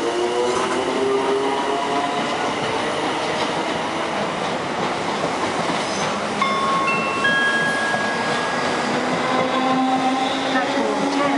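Class 455 electric trains pass through a station with a continuous rolling rumble and wheel noise, some faint squealing tones, and no talking.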